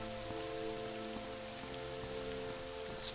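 Steady rain from the game Morrowind falls without pause, a dense, even hiss of drops on surfaces that carries on alone under a faint continuous ambient tone.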